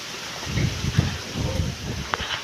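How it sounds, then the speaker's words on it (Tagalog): Strong wind gusts and buffets around a house with a corrugated metal roof, a rough, rushing roar rising and falling across the clip with a few sharp knocks. "Mabilis na naman ang hangin."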